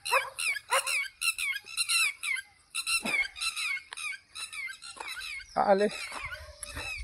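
Dogs bark repeatedly in quick bursts from several spots nearby, some yelps rising into squeaky whines, with a person's voice briefly heard among them.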